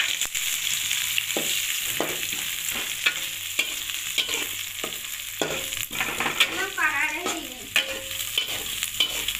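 Onions frying for chicken kosha give off a steady, close sizzle under repeated scraping strokes of a spatula against the pan, with no talking.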